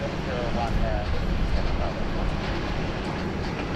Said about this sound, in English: There's our UPS 747-400 flying in from Louisville via Honolulu, flight UPS 34.